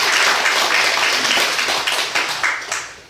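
A church congregation applauds its supported missionaries at a Sunday morning service, a dense, steady wash of many hands clapping throughout that thins slightly toward the end.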